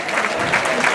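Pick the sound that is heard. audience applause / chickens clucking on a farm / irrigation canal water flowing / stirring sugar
audience applause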